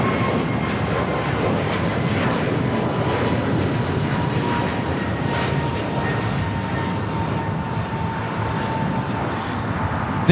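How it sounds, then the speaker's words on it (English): An American Airlines Airbus A321neo jet takes off from runway 25 left, a loud, steady engine roar that stays strong and broad throughout, with a faint tonal whine on top. "513 taking off to Philadelphia on an A321 runway 25 left"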